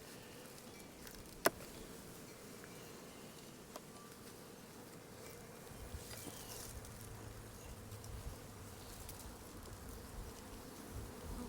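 Honey bees hum steadily around an opened hive frame full of honey in late winter, a continuous soft buzzing drone with a few faint clicks and knocks.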